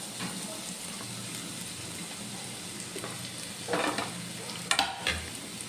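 Sliced onions tossed into hot oil with garlic in a pan, a quiet continuous sizzle with a few louder stirring scrapes and clatters toward the end.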